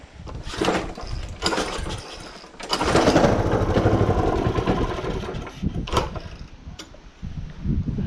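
A Husqvarna lawn mower, smoking heavily, runs at full throttle with a loud, buzzing engine whine that surges, dips and cuts back in short bursts before revving up again.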